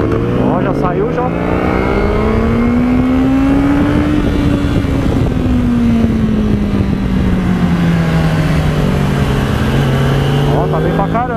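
A Honda CBR 500R motorcycle rides off on a race track, its engine loud and close, the pitch climbing as it accelerates, dipping, then rising again, with a voice talking over it.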